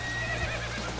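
A horse in the video game Dynasty Warriors 9 whinnies in a short, rising neigh after being spooked, over a steady low hum, with a faint clopping underneath.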